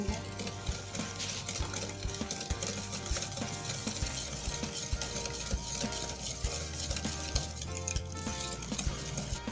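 Eggs and a spoonful of flour being stirred into fruit cake batter in a bowl, with steady scraping and soft clinks of a spoon against the bowl throughout, close and fairly quiet.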